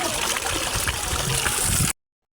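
Water splashes steadily from a local village tap in Jajarkot, a continuous bright gush heard up close and alone before it cuts off abruptly near the end.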